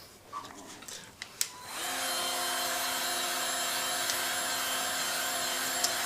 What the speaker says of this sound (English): hears the heat gun